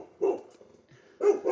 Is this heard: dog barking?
yes